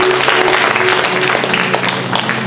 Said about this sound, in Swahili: Muongezee Yesu makofi.